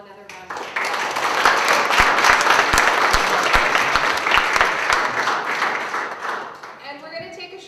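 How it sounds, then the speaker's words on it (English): An audience applauds loudly after a panel talk, with dense clapping and some sharp, close individual claps. It fades near the end as speech resumes, and voices are heard at the start and close. "If we could just give them all another round of applause."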